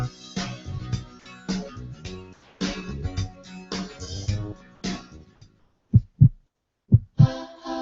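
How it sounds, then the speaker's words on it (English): Deep, thudding heartbeat pulses come in pairs near the end of a radio ad, after a stretch of rhythmic music, standing alone and close against silence. "Did you know your heartbeat, the rhythm of your valves opening and closing, mimics the music you listen to?"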